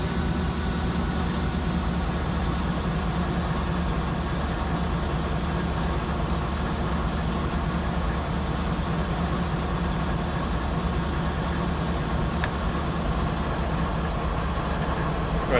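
A Norfolk Southern coal train in Train Simulator 2016 rumbles steadily uphill through coal-district country, its engine drone and wagon noise a dense, unbroken roar at constant level throughout, with no voices.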